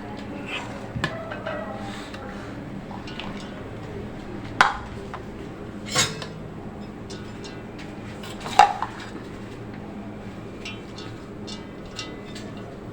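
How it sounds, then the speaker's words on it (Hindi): Scattered metallic clinks and taps of a utensil against a pot as half the rice goes into a chicken dum biryani, over a low kitchen background with a few sharper knocks. "आधे चावल हम इसमें डाल देंगे।"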